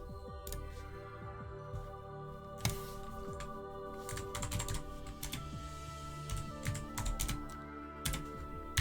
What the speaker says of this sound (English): Sorry, I cannot type with this keyboard.